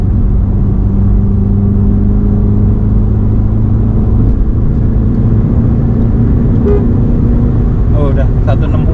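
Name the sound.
BMW 330i M-Sport G20 car accelerating at high speed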